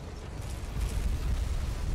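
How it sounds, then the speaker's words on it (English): A deep explosion rumbles in the video game F.E.A.R., a low roaring boom that swells and sustains for a couple of seconds, heavy and close with no talking over it. "What's up with the explosion?"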